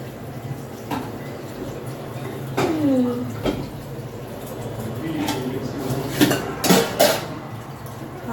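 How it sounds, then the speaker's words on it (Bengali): Dishes, pots and pans are gathered and put away in a home kitchen, giving scattered clinks and metallic clanks, with a cluster of louder knocks near the end and occasional voices. "সব বাসনপত্র সব ছড়িয়ে রয়েছে, তাই গুছিয়ে ফেলি"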